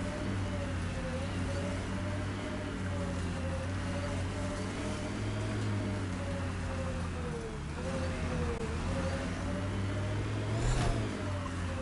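A car engine drones in Mass Effect: Andromeda, a steady mid-pitched hum that rises and dips slightly in pitch now and then, running continuously throughout with no voices.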